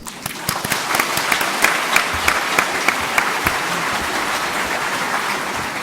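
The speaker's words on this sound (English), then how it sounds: "of applause" An audience at a Los Angeles concert event breaks into a warm round of applause, many hands clapping in a dense, continuous wash with a few sharper individual claps standing out nearby.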